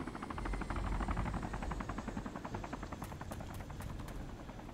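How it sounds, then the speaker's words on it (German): In the video game DayZ, a helicopter approaches with a loud, rapid rotor chop that throbs steadily throughout, heavy low thumping under a rhythmic beat, with no voices over it. "Hier kommt ein Heli."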